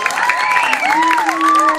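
A small crowd at a Balinese Calonarang performance at a temple claps, with loud shouts and whistling voices rising and falling over the clapping.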